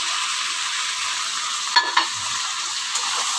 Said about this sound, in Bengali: পোস্তটা দিয়ে আমি এই এক থেকে দেড় মিনিট আমি নাড়াচাড়া করব